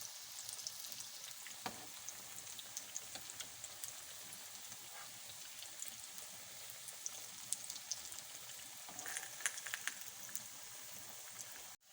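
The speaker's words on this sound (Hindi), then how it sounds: "एक साइड फ्राई हो चुकी है, अब मैं दूसरी साइड इसकी कर रही हूँ।" Aloo tikki frying in hot oil in a pan, a continuous soft crackling sizzle with scattered pops and spits throughout, close and steady with no talking.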